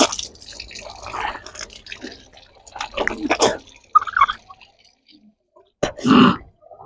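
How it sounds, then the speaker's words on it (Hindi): Someone rinses their mouth with water three times during wudu, making sloshing and spitting splashes in uneven bursts, with a loud final spit. The sounds are close and there is no speech. "तो आपको 3 बार कुल्ली करना है।"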